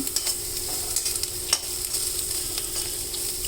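Garlicky amaranth leaves fry in a pan in reduced oil, producing a constant close sizzle broken by small pops and soft stirring scrapes, with no one speaking.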